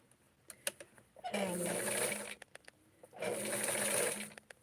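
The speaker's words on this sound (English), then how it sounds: "I'm going to sew it into place here to give it a little bit um," A sewing machine stitches fabric on a doll-sized wrap skirt in two steady runs of rapid whirring, each lasting about a second, with clicks and handling noises between them.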